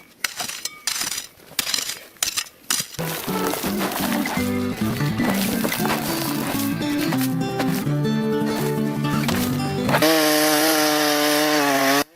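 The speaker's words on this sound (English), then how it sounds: "cutting off the excess height with a chainsaw to create a perfectly horizontal base for the floor beams" A chainsaw trims the tops of wooden log posts on a forest cabin build, starting with choppy bursts, then a loud sustained whine as the blade bites through the wood, rising in pitch near the end.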